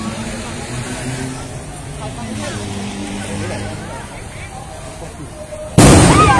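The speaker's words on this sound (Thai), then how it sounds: "ระเบิดดังขึ้นดังมากนะครับ" Voices and outdoor traffic murmur on Vibhavadi Rangsit Road in Bangkok during a police rubber-bullet clearance until a sudden loud blast erupts near the end, sharp and close.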